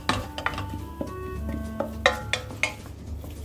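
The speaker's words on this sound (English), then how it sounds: "So we're going to stir it a little bit more" Choux pastry dough gets stirred in a mixing bowl, a series of irregular scraping knocks and light clinks of a spoon against the bowl, close and fairly quiet, roughly eight distinct strokes.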